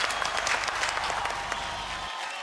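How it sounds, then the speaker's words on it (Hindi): A studio audience applauds warmly to welcome a guest on a television show, a dense, even wash of many hands clapping that holds steady and then cuts off abruptly near the end. "जोरदार ताली के साथ भैया का स्वागत करियो"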